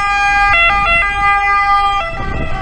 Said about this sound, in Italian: senza la sirena dell'ambulanza